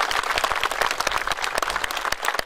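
Lively audience applause at an outdoor commemoration as a regiment's flag is presented, a dense patter of individual claps, fairly close and uneven, without voices.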